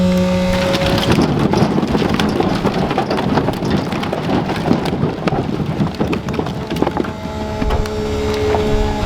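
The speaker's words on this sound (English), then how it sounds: "Now the rain's starting, so we're out of here." Steady rain falls in mountain woods where beetle-killed pine is being cut for firewood, a dense continuous patter on surfaces with scattered louder drops, loud and close throughout.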